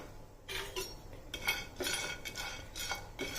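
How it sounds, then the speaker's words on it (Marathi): Whole spices (black pepper, cinnamon, star anise, dry ginger, black and green cardamom) being dry-roasted together in a pan without oil, heard as repeated scraping and clinking stirs against the metal, close and moderately loud. "सर्व मसाले सुकेच भाजून घ्यायचे आहेत।"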